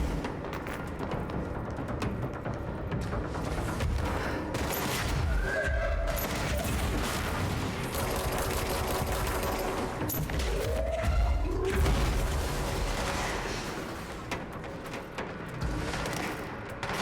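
Sniper gunfire crackles in the video game Control, with a dense ongoing barrage of shots and thumps at moderate loudness, and no clear voices.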